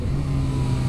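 A Yamaha XSR 900 motorcycle with an auto-blipper holds a steady, loud, close engine drone with a strong low throb for about a second, and no voices.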